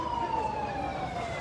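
Ambulance carrying a patient sounds its siren while trying to get through a police roadblock, a loud, close, sustained wailing tone sliding slowly downward over steady road noise.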